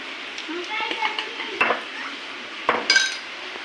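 Spoonful of cornflour stirred into soya chunks in a bowl, with light scraping and a few sharper clinks of spoon against the bowl, close and moderately quiet.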